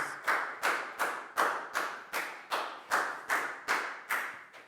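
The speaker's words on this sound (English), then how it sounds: "High five and a big round of applause" Classroom clapping for a student, about ten evenly spaced sharp claps in a steady rhythm, fairly close and alone without talk.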